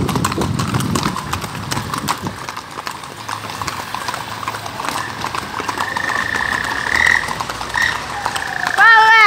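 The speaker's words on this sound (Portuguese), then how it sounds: "Tem que pegar um cavalo desse daqui e botar pra mexer." A horse moves along with steady clip-clopping hooves on a ranch trail ride, the hoofbeats close and continuous, with croaking frogs and a whinny-like call toward the end.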